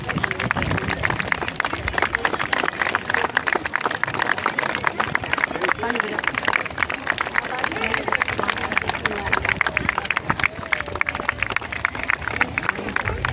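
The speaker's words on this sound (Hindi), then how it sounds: "कृपया तालियों में कंजूस ना करेंगे।" An audience claps continuously at a gathering, a dense, steady stream of applause lasting many seconds with crowd murmur mixed in.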